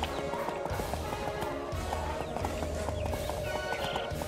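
Rhythmic hoofbeats of a galloping horse in the video game Two Worlds, with an occasional whinny, set against steady background music, loud and continuous throughout.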